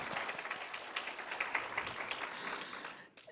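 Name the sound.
audience applause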